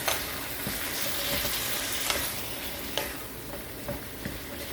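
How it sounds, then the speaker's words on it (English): Shrimp being stirred in a pan with fish sauce, Shaoxing wine and sugar for Thai basil shrimp, a steady close sizzle broken by several scraping stirs of the utensil, no one speaking. "And we'll stir it."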